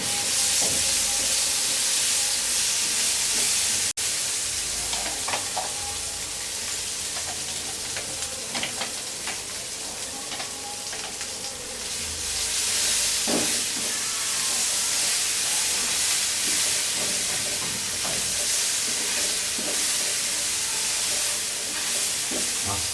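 Blended spice paste fries in a pan for a Kashmiri shahi aloo dum potato curry, giving a steady loud sizzling hiss with occasional scraping stirs and clinks, and no talking.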